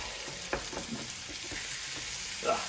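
Chorizo, beans and onions frying in a pan on a Weber barbecue: a soft, steady sizzle under repeated utensil scrapes and stirs, with no voices.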